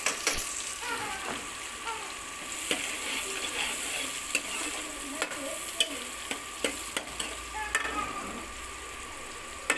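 Onions fry with a steady sizzle in a pan for Lahori chickpea curry, broken by repeated scraping clicks of a spoon stirring them throughout.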